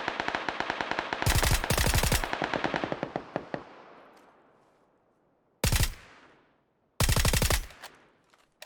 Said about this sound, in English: That's the guy I was just shooting